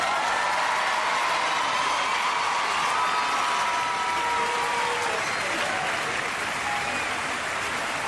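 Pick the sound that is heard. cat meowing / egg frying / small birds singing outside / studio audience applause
studio audience applause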